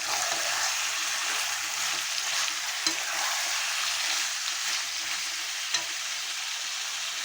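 Chicken meat seasoned with salt and turmeric fries in a pan with a loud, continuous hissing sizzle, with occasional stirring scrapes and no talking.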